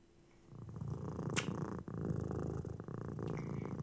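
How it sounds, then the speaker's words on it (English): A cat purring up close, a soft continuous rumbling purr that runs throughout with no talking. "Listen to her purr."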